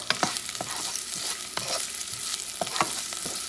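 Garlic fries in a pan as it is stirred, a continuous close sizzle broken by repeated scraping clicks of the utensil, with no talk.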